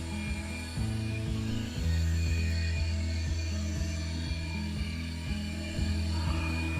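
A Holy Stone HS340 mini camera drone hovers close by, its small propellers giving a steady, loud buzzing whine that shifts pitch a little as it is trimmed, with no talking.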